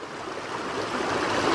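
Mountain stream flowing beside a snowy, slushy hiking trail on the way to Spaulding Lake in California, a steady broadband rush of water that swells slightly louder over the span, with no voices.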